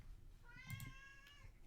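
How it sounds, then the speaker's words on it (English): A single cat meows once, a short, soft, rising-and-falling cry that sounds close but quiet against a low background hum, with no talking. "There's my cat."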